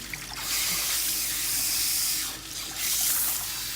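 Running water at a salon sink while hair is rinsed after a keratin treatment: a steady broadband hiss of flowing water, close and continuous, dipping briefly partway through, with no talking.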